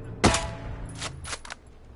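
Gunfire in Ghost Recon Breakpoint: one loud close shot followed by a few quicker, softer bursts, sharp and punchy over a quiet background.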